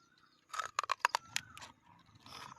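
Someone bites into crispy pork belly served with spicy som tam, producing a quick burst of sharp, close crunches, then softer chewing fading off.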